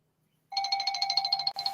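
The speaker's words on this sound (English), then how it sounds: "That's my phone somewhere" A mobile phone ringtone starts suddenly after a silent half second and plays a bright, rapidly pulsing electronic trill, with a brief break before it repeats close and clear.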